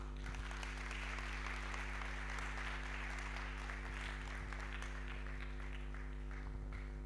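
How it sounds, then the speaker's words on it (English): Steady applause from a pitch-day audience, a dense patter of many hands clapping that continues throughout, with a low steady hum underneath. "Please, a round of applause for Daktari"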